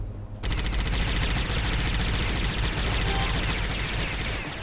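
Rapid automatic gunfire from the 2003 shooter video game Alien Shooter, loud and continuous, a dense unbroken rattle of shots that starts abruptly and fills the whole stretch.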